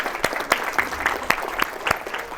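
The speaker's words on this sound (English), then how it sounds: "Give her a round of applause." Scattered applause from a room audience at a hypnosis seminar, a loose patter of individual claps rather than a full ovation, lasting a couple of seconds.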